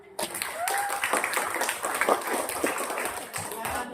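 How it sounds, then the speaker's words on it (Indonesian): Classroom applause from students at a computational-thinking and digital-literacy lesson, a dense burst of clapping that starts sharply and carries steadily to the end, with a few voices mixed in. "Oke, tepuk tangan."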